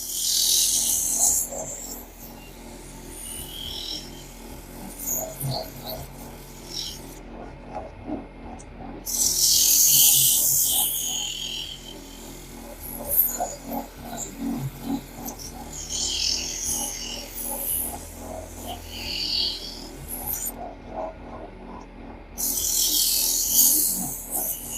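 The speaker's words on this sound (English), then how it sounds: "Just let the sandpaper do the work." A wooden bowl sanded by hand with sandpaper gives dry, raspy scratching strokes in uneven bursts, some louder and longer, with brief pauses between them over a steady tonal background.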